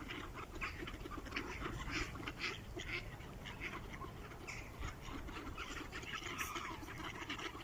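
Ducks quack repeatedly and overlap while feeding in the snow in a Swedish winter, a busy flock of calls heard over a steady noisy background.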